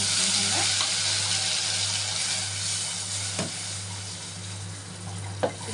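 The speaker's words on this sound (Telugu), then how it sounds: "తాలింపులు ఇట్లా వేసుకోవాలి కొంచెం" Hot oil sizzles steadily with a bright crackling hiss as tempering spices fry for drumstick lentil stew, broken by a few sharp clinks of a spoon stirring in the pan.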